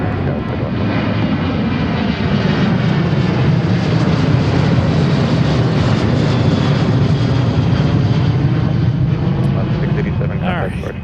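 A jet airliner takes off from runway 34 Right at Seattle-Tacoma airport, its engines producing a loud, steady roar that holds at full strength throughout the clip and eases slightly at the end.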